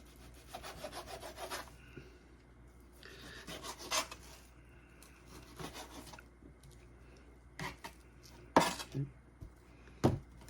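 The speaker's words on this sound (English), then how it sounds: "And then I'm gonna cut it around the fat here." A knife trims fat from Angus ribeye beef on a board in several separate scraping, sawing strokes, with soft rubbing in between and a few sharper clicks toward the end.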